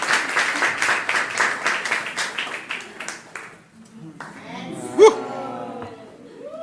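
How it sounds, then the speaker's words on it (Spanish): A church congregation gives welcoming applause during a Sunday service, with dense clapping for about three seconds before it dies down, followed by voices and a brief loud exclamation. "Le damos un aplauso de bienvenida."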